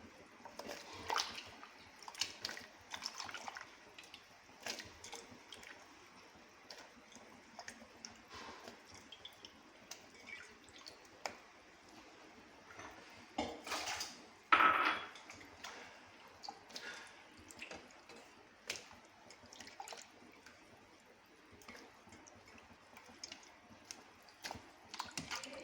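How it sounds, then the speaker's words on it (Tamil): Chopped vegetables for avial go into boiling water in a cooking vessel, giving quiet scattered drips and small splashes, with one louder plop partway through and no talk. "இப்போ நம்ம கட் பண்ணி வச்சுருக்கிற காயெல்லாம் சேர்த்து வேக வைக்கணும்."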